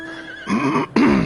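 A horse in a video game whinnies twice in quick succession, a wavering high neigh that breaks off then repeats louder, close and clear.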